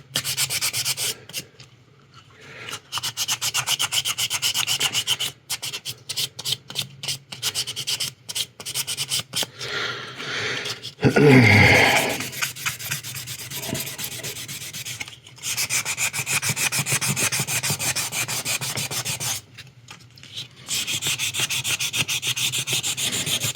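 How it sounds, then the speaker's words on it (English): Steady, close-up rubbing and scratching of sandpaper over Stylo Res primer on a 1/60 NeoGrade Sazabi plastic model kit, in repeated strokes with a brief louder scrape near the middle and no talking. "But the Stylo Res sands very easily."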